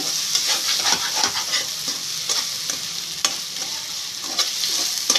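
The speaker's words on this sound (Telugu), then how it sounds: "అల్లం వెల్లుల్లి పేస్ట్, మసాలా అంతా కూడా పచ్చివాసన పోయేంత వరకు కూడా బాగా వేగించుకోవాలి" Ginger garlic paste and garam masala frying in hot oil for potato biryani, a loud close sizzle with steady stirring scrapes throughout, no one speaking.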